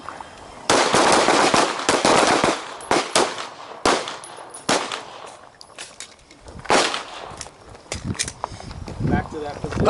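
Handguns firing in a combat shooting drill, sharp reports at irregular intervals, some in quick pairs, over a steady roar of outdoor noise; voices and commands sound between shots.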